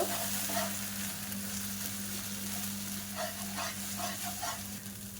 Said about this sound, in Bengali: আলু ভাজাটা প্রায় হয়ে গেছে